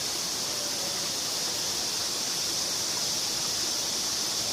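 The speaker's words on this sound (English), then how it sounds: "That noise you hear behind me is a cicada." A continuous, high-pitched buzzing drone of cicadas at Red Rock Crossing near Cathedral Rock, steady and fairly loud throughout, with no talking.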